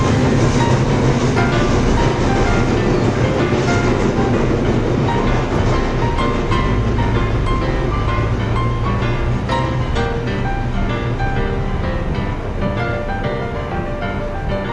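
Everett Railroad steam locomotive number 11 pulls a passenger excursion train, giving a loud, continuous rumble of rolling cars with rhythmic clickety-clack from the rails, heard close and steady throughout.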